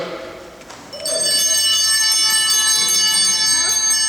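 A bright church bell rings out with sustained, shimmering overtones, struck once and left to resonate loudly for several seconds.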